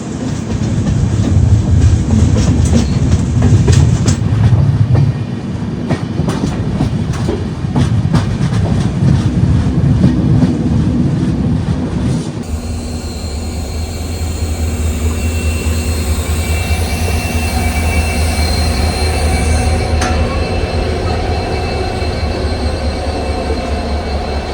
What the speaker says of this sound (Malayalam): ഇതാണ് നമുക്ക് ക്രോസിങ്ങിന് വന്ന വണ്ടി കേട്ടോ. ഇത് ന്യൂ തിൻസുക്കിയ രംഗിക്ക് പോകുന്നൊരു നോർമൽ എക്സ്പ്രസ് ട്രെയിനാണ്.